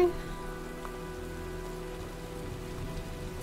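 Steady rain patters on surfaces in the video game Heavy Rain, a constant wash of drops under a low tonal hum, with no voices.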